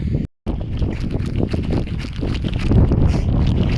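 Headwind buffeting a microphone during a downhill run in Ulaanbaatar, a continuous rough rushing roar, loud and close, with a brief dropout near the start and gusts building toward the end.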